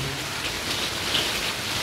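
A short burst of heavy rain hisses steadily and loudly on surfaces, close and constant, with no voices.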